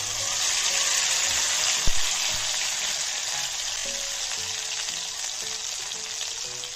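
Nigella seeds sizzle in hot oil as the base of a fish curry, a steady close hiss of frying with a single small pop near the start and no voices.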